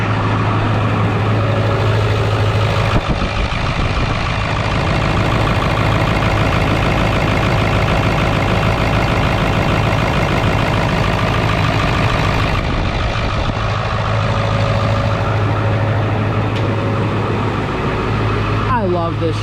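A Ford 7.3 diesel truck engine idles steadily and loudly at close range with a constant rumbling clatter and no change in pace throughout.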